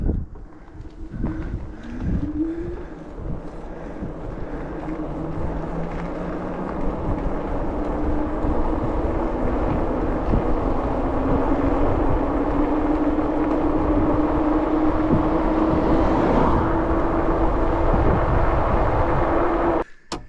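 A Lacros Thunder electric mountain bike climbs a hill on throttle alone, its motor whine rising and holding steady for about twenty seconds under heavy, continuous wind rush.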